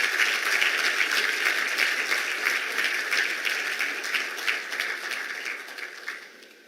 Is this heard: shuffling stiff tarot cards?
no